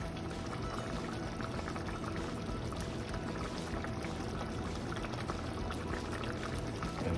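Coconut milk with squash simmering in a pot, a steady, continuous bubbling and sputtering that stays even throughout without any voices.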